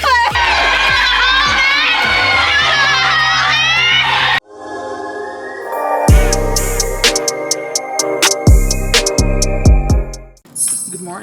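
A crowd sound effect of cheering and children's shouts, with sharp claps and whoops, bursts in after several seconds of melodic music and stays loud and busy until it drops off near the end.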